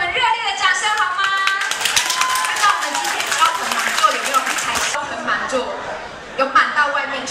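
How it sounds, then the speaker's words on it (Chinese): Guests at a wedding banquet clap for the groom's father, and the scattered applause runs under an amplified host's voice and music before fading, with a short burst returning later. "是不是给我们热烈的掌声好吗？"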